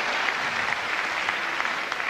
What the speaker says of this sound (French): Gaëlle Voiry, vous l'applaudissez encore.